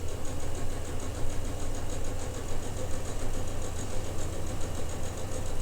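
A sewing machine stitches a quilt block seam a quarter inch from a marked line, giving a continuous, even mechanical hum with a fine rapid vibration and no pauses.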